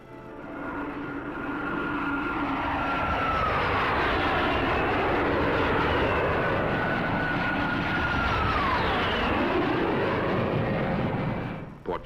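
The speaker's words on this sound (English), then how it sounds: "Portugal's air squadrons are equipped with NATO jets." NATO jet fighters of Portugal's air squadrons fly past in a 1950s recording, a loud, sustained engine roar with sweeping tonal whines that rise and fall across the pass, alone without talk.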